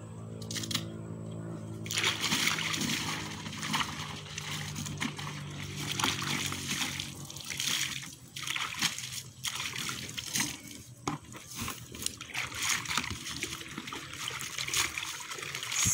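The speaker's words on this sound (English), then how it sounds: "now I'm going to rinse the basin." Water splashing and trickling as a basin is rinsed out in an African village during hand washing of clothes, with steady irregular sloshing and dribbling, fairly close.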